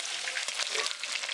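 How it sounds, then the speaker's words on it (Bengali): Hilsa fish pieces frying in hot oil in a pan, giving a steady, close, loud sizzle with small crackling pops for about a second and a half, with no voices. "মাছটা আমি খুব একটা ভাজবো না, হালকা ভাজা দেবো, মাছটা তুলে নেবো।"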